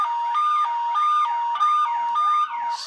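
A loud electronic siren from a Bosch Solution alarm system alternates between two pitches with sweeping whoops, repeating steadily in close cycles with no voices.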